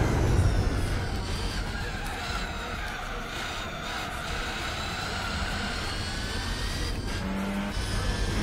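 A Chevrolet Camaro in a Gran Turismo 4 race on nitrous boost, its engine holding a steady, continuous roar with rising and falling whine tones throughout.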